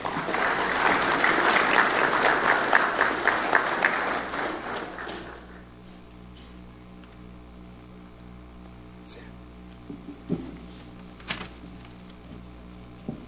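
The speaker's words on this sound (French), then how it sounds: "Dr. Keith Michel, sous vos applaudissements, s'il vous plaît." Loud applause from a crowd at a CARICOM heads of government meeting opening ceremony in Port-au-Prince for about five seconds, then it fades to a quiet room with a few scattered claps and faint murmurs.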